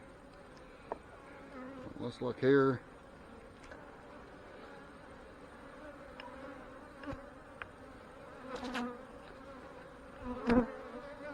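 Honey bees buzzing around an open hive during an inspection, a soft continuous hum with louder passes as individual bees fly close, while a person speaks briefly.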